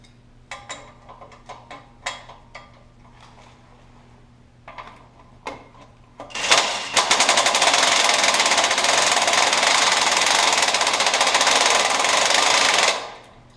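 Reassembling a pit bike, a few scattered metallic clicks and taps lead into a loud, fast, buzzing rattle from a powered driver tightening a bolt, running steadily for about six seconds before stopping abruptly.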